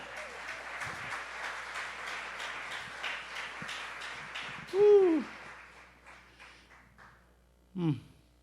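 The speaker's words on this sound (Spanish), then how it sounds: "Dele una alabanza de palmas al Señor." A church congregation claps in praise, a dense burst of rhythmic hand clapping that gradually thins and fades, with loud vocal exclamations breaking in over it.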